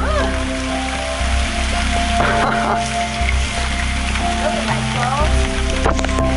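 A heavy tropical rain shower on Kapas Island, Malaysia, pours down as a dense, loud, steady wash, with voices and other noises mixed in.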